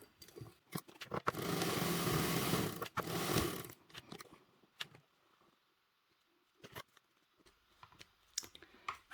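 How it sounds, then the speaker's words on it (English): A home sewing machine stitches a 3/8 inch seam allowance on fabric for a bottle crossbody bag, with two close, steady whirring bursts of a second or two each, separated by sharp clicks and handling noises. "So we are at the sewing machine. We are doing a 3/8 seam allowance."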